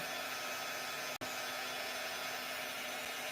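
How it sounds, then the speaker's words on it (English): A heat gun blowing hot air to heat and tighten a small canvas: a steady, even whir that runs continuously with one very brief break partway through, fairly quiet and close, with no talk. "then you use your heat gun to heat it up"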